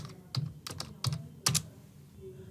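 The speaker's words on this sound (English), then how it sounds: "now I will go to this URL section over here, and I'm going to type pabbly.com" Keys clack softly on a computer keyboard as a short web address is typed, four or five light keystroke clusters in quick succession in a quiet room.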